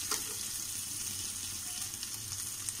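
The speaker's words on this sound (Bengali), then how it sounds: "সেদ্ধ আলু দিয়ে কিছুক্ষণ কষাবো।" Boiled potatoes frying with fish belly and bitter gourd in a pan give off a steady, close, even sizzle with faint crackles and occasional soft stirring, and no voices.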